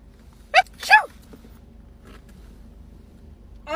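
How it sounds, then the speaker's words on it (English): A human sneeze, two sharp bursts close together, loud and near, followed by a faint low background with small scattered noises and a brief sound at the end. "I sneezed by accident."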